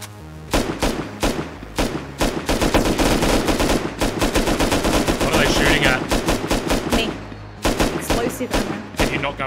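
Rapid bursts of automatic gunfire crack out in dense volleys at a base gate in the survival video game Rust, loud and close, with brief gaps between strings of shots and faint talk underneath.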